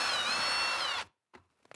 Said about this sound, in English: so I can drill down through with my larger drill bit